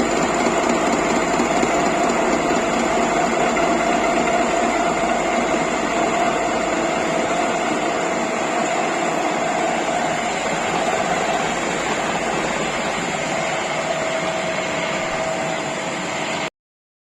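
A milling machine cutting non-standard bolts, a steady whining hum with a constant tonal drone holding evenly for the whole stretch before stopping abruptly.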